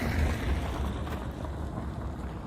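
Steady wind gusting in a north Death Valley canyon, blowing dust across a road: a constant low rumbling roar with microphone buffeting, loud and unbroken throughout.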